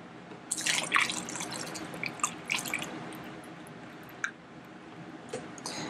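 Water pours into a bottle while homemade Febreze is being mixed, heard close up as drips, splashes and bubbly gurgles that trail off into scattered drops and faint trickling.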